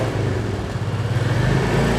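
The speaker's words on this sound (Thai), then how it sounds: "เดี๋ยวฟังเสียงท่อคันนี้กัน ภาษาติดง่ายครับรอบเดินเบานี่กับตาเร่ง" Stock exhaust of a 2024 Royal Enfield Meteor 350 Fireball, a close, loud single-cylinder thump pulsing steadily at idle and rising slightly toward the end with a blip of throttle.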